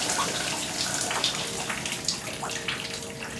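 Shower water pours steadily in a scene from The Walking Dead season 4, episode 1, a continuous hissing, splashing wash with faint irregular spatters, moderately quiet and unbroken throughout.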